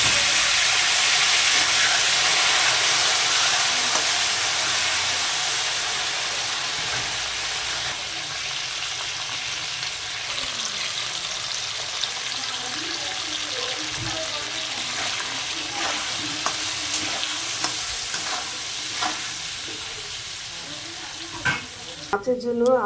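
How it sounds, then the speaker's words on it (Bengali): Potatoes sizzle steadily in hot oil for a fish curry, a close, continuous frying hiss with occasional stirring scrapes and clinks near the end. "এবার আমি মাছের জন্য আলুটাকে ভেজে নেব।"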